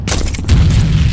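A single heavy grenade blast in a video game, a loud close boom with a sharp onset and a rumbling low tail that fills the short moment.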